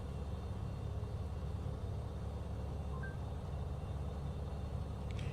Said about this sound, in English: You guys can hear the airplane,